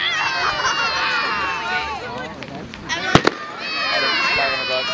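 Fireworks burst at a Scotts Valley display, two sharp close bangs standing out amid a lively crowd of cheering, shouting kids and chatter that fills the whole scene.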